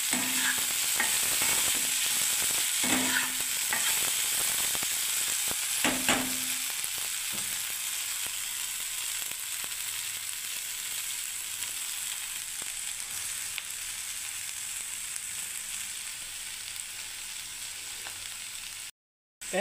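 Okra (bhindi) fries in a pan, Hyderabadi style, giving a steady close sizzle that runs on for nearly twenty seconds, with a few stirring clinks early on before the sound cuts off abruptly.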